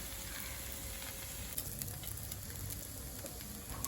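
A red rice and green gram dosa, topped with white butter, sizzles steadily on a hot pan, a constant soft crackle with a few small pops.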